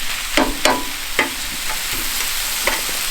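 Cooked ground beef and vegetables are stirred together in a sizzling pan, a spatula scraping in about six sharp, irregular strokes over a constant frying hiss.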